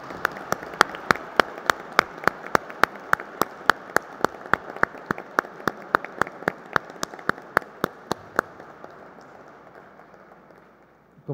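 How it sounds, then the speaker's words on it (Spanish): A steady run of sharp, evenly spaced claps at a journalism graduation ceremony, like one person clapping briskly, fading out toward the end into quiet room noise. "Pido un aplauso especial para ella."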